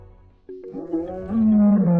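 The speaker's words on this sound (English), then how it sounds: "Lions have significant roars." A lion gives a deep, sustained roar that swells after a brief quiet opening, loud and close, rising into a strong rumbling call with no talking.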